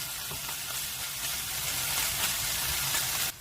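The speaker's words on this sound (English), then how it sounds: "Let's just fry the beef, marinate the beef." Beef sizzles and fries in a hot pan, a dense, continuous crackling hiss that stays close and even before cutting off abruptly near the end.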